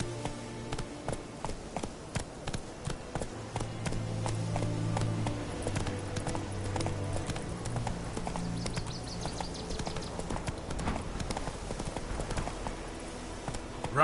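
Horse galloping in The Witcher 3, a rapid rhythmic clip-clop of hooves that builds into a steady run with a dense, close, continuous pounding and no talking.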